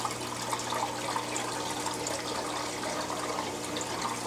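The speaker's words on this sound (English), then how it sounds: "kind of ends up splashing out because it's rippling so much" WP40 aquarium wave pump driving water in a tank, a constant close rushing and splashing wash of water with steady ripple noise and no speech.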